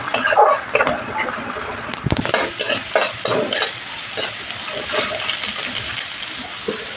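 Green chili, chopped onion and garlic fry in hot oil with cumin, giving a steady hiss broken by clinks and scrapes of a spatula against the pot.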